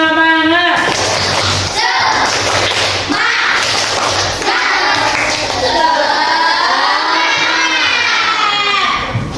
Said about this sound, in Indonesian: Untuk penutup, kita tepuk semangat lagi.